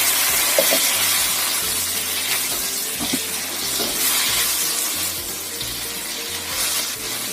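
Water poured into a hot frying pan of shrimp and chicken cooked with soy sauce, giving a steady watery hiss and sizzle, close and continuous, with faint clinks of a utensil stirring now and then.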